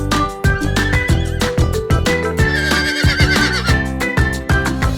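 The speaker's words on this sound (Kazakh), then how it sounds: "Құлын." A foal gives loud, close neighs, a series of high, wavering whinnies with quick pulsing breaks and brief pauses between calls.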